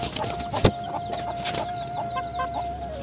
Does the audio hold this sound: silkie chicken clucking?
yes